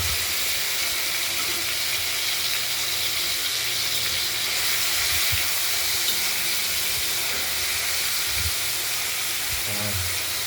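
A steady loud hiss of prawns frying in hot oil in a wok fills the clip, constant and close, with faint clatter near the end.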